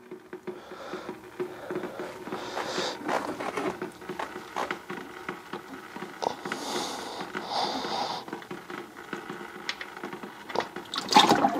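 Engine oil pours out of a Ferrari F430 on a lift into a drain pan, a continuous watery splashing and trickling that carries on throughout at moderate level, with small clinks and handling noises mixed in.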